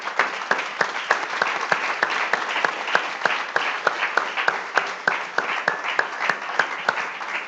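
A church congregation claps in steady, rhythmic unison, close and fairly loud, with a few voices mixed faintly into the applause.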